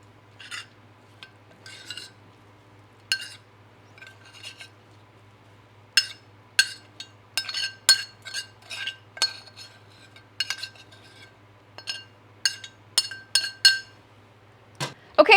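Scrambled eggs being plated, with utensils clinking and scraping against dishes in a run of sharp, close, irregular clinks over a steady low hum, growing busier toward the end.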